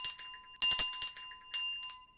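A bell rings repeatedly in quick strokes at 9 o'clock on nomination day at a hall in Mauritius, bright and sustained, with a steady ringing tone that carries through the whole moment and no voices.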